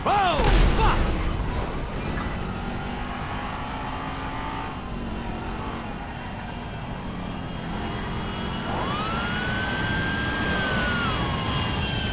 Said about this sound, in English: you are in the path of aircraft.